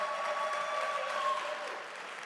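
An audience at a bridge championship TV show claps in a short, even burst of applause that stays moderately loud throughout and tapers slightly near the end.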